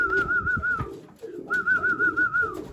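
Racing pigeons coo at twilight in two close, rolling warbled phrases separated by a short gap.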